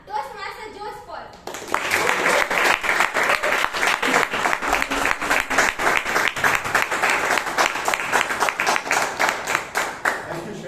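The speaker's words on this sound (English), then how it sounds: "So kindly give huge round of applause to the president of the Bangalore Toastmasters Club, Toastmaster Jose Paul." An audience at a Toastmasters club meeting in Bangalore breaks into loud, sustained applause of dense, steady clapping that follows a brief moment of speech at the start.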